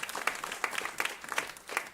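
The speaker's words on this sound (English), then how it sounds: "Round of applause for her, please." An audience applauds a congresswoman representing Oregon's 3rd District at a climate event, with moderate, steady clapping from a mid-sized crowd that keeps a fairly even level throughout.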